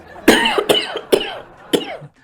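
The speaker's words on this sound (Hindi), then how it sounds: "आपको खांसी हो रही है" Four harsh coughs in an uneven rhythm, loud and close, each a sharp burst trailing into a rasp, with a brief quiet gap between the third and fourth.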